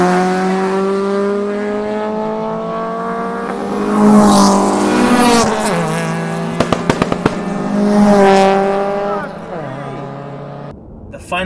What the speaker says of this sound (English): Oh, the exhaust.